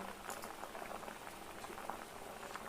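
River crab curry bubbles and simmers in a pot, a steady continuous boiling hiss with soft popping, close and moderately quiet throughout.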